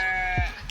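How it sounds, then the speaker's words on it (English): A sheep on a farm gives a single short bleat, close and moderately loud, over a quiet outdoor background. "We have sheep over there,"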